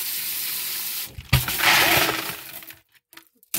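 Water rinsing coarse-grit Huckleberry garnet stones in a small strainer over a bucket, a steady hissing flow with a sharp clatter of stones partway through, then tapering off into quiet with a few small knocks.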